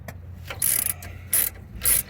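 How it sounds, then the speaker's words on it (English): Small roto ratchet clicking in three short, crisp bursts while loosening the rear brake caliper slide bolts on a 2007 Ford E150 cargo van, close up with quiet pauses between. "Here's a good use for these little roto ratchets."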